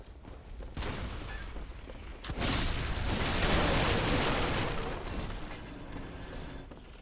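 Heavy booming blasts from a cannon in the video game Bloodborne, a loud rumbling burst swelling in the middle and slowly fading, with no talking over it.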